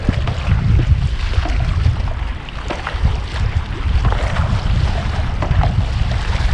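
A sailboat heading crosswind, with loud, steady wind rushing across the microphone and waves washing against the hull throughout. The noise is constant and close, with no speech.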